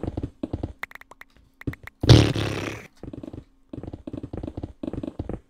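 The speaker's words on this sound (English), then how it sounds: "That's the sound of me trying to fly." Minecraft character attempting to fly: a short burst of rough, roaring whoosh in the middle, set between bursts of ongoing game chatter.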